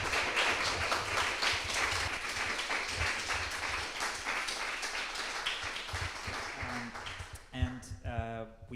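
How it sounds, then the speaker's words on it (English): Applause from an audience after a talk on memorialisation, dense clapping that fills most of the stretch, then thins out near the end as a voice begins speaking. "for that you deserve more than a round of applause"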